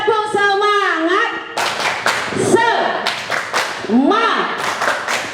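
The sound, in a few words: children doing a rhythmic spirit clap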